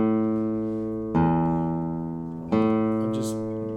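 Alternating bass notes thumbed on a classical guitar, two or three sustained low tones struck one at a time, each ringing and fading before the next, close and clean with no talk.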